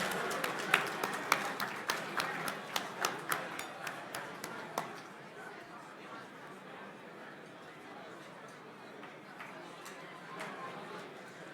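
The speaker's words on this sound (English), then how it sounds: "Let's give them an applause, please." Scattered hand claps from the audience at an M&A awards gala, a few crisp claps in steady succession that thin out and fade after about five seconds into a low room murmur.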